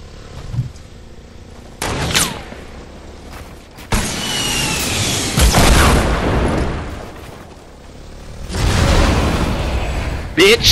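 Bursts of blast-like sound in a skeet shooting game called Thwack: several sharp, loud onsets, each followed by a sustained roar, scattered across the stretch with voices mixed in.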